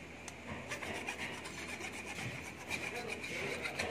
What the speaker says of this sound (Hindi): यहाँ पे मैं फाइल से माँज रहा हूँ